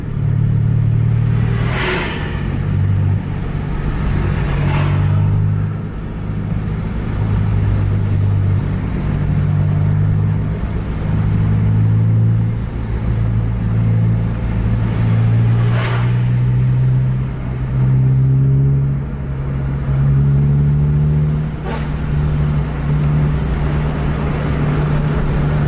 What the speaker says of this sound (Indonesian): Banyak truk.